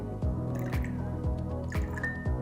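High-pH alkaline water dripped into a liquid, about six distinct drips in an irregular rhythm, close and fairly quiet, with no talking.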